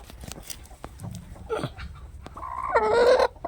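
A village hen sitting on eggs in a poultry pen under lemon trees, letting out agitated clucks and a rising, drawn-out squawk, close and fairly loud, with a few scattered taps and rustles around it.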